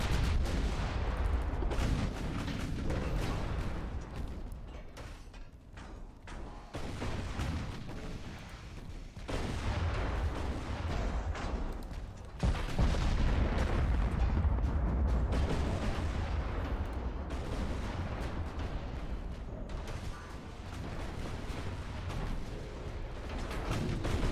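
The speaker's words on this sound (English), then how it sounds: "There's a lot of shots coming in on the Rudolph." Warship naval guns fire in Ultimate Admiral: Dreadnoughts, a continuous barrage of deep booming salvos and rumbling impacts that overlap into a dense, roaring battle din with brief lulls between heavy volleys.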